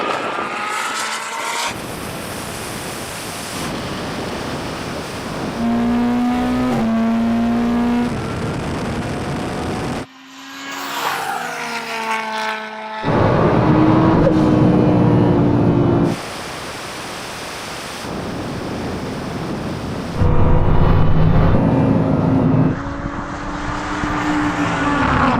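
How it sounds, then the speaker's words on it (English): Drag race cars launch and accelerate hard, one sliding sideways off the line, with loud engine roars and rising revs arriving in abrupt, separate bursts of varying intensity. "That was the weirdest drag race ever. Got an awful launch, went sideways off the line."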